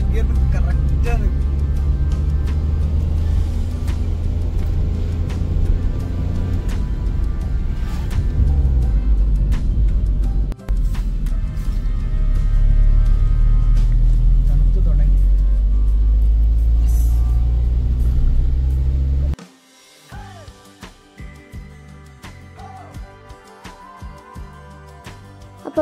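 Car climbing a hill road toward Ooty in second gear, a loud, steady engine rumble that cuts off abruptly near the end, with people talking over it.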